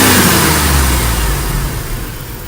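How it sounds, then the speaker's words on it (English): A car engine, an MDX, is revved during an alternator output test, holding a loud, steady high-rpm roar that slowly eases off, close to the microphone. "now what it wants me to do is rev my engine with my loads off"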